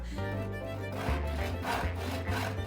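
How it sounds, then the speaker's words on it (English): Rhythmic back-and-forth rasp of a hand saw cutting through wood, several quick strokes in steady succession, close and clear. "The secret of a good sawing motion is to angle the blade at 65 degrees from the wood"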